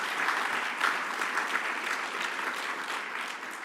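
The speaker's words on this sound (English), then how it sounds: "That deserves a round of applause." Steady applause from an audience at a Parkland Health Foundation reception, dense and sustained for the whole stretch with no speech over it.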